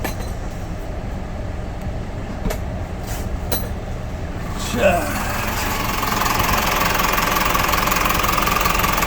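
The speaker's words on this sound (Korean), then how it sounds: "엔진 소리도 아주 조용하고요" A used car's engine idles with a steady low hum, with clicks and a brief clunk midway as it gets louder and brighter toward the end.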